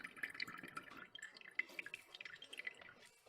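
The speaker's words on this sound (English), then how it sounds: "I'll just pour it through some coffee filters" Cornstarch solution drips slowly through coffee filters in faint, irregular patters, soft and close, with no voices.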